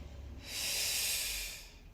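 A single deep breath in an exercise class, a soft airy inhale-exhale swelling up for about a second in the middle, close and quiet, with no speech.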